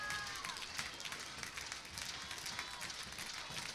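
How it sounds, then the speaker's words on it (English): Home crowd at a Michigan Wolverines softball game against Ohio State, a faint, distant murmur of cheering and clapping that continues steadily in the background. "again, the Michigan crowd supporting their team"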